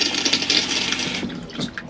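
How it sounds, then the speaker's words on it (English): Fresh-water toilet flush in a Chausson Flash 14 motorhome, a loud close rush of water for over a second that tails off into quieter trickling and gurgles, with no talk over it. "The big blue button is your flush button."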